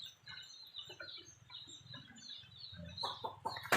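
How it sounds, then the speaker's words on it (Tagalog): Baby chicks in a small rearing pen, a steady chorus of high, thin peeping close by, with a few louder, sharper cheeps near the end. "Ito naman ngayon guys, sisiw ito."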